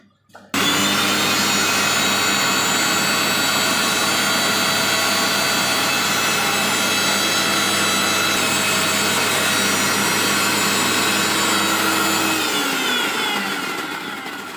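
An electric mixer blends plain oil into homemade mayonnaise, its motor whining in a steady, loud, unbroken run for about twelve seconds before spinning down, with no talking.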